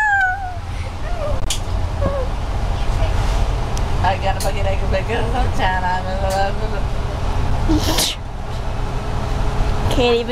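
Inside a moving bus, a constant low engine and road rumble runs beneath a cat's repeated meowing and people talking nearby.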